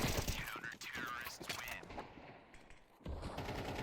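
Gunfire rattles in a Counter-Strike 2 match, a quick burst of sharp shots near the start and another at the end, with a quieter gap between them.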